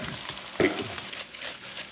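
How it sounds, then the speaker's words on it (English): Soft, steady bubbling sizzle of fish and chips deep frying in oil in a fry basket, with a brief louder crackle near the start. "you deep frying and you have a deep amount of oil in there"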